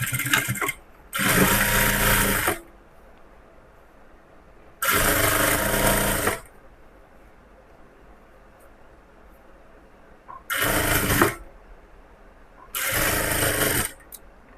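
Sewing machine stitching blouse pieces together in four separate bursts of steady, loud whirring, each lasting one to two seconds, with quiet pauses between them and no talking.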